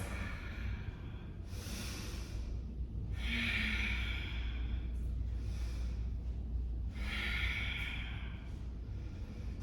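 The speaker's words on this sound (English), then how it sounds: "I breathe in. And I breathe out." Slow, deliberate breaths during a classical pilates mat workout, alternating airy inhales and longer exhales in a steady cycle, close and fairly soft with no talking.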